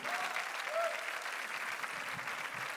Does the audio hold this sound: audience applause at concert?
yes